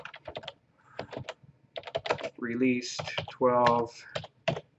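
Computer keyboard typing, with light clicking keystrokes scattered under a person talking throughout.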